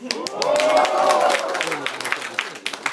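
An audience at a society's tenth-anniversary celebration claps and applauds, a dense burst of many hands that swells and then thins into scattered claps, with a voice speaking over it throughout.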